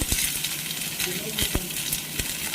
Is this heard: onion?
yes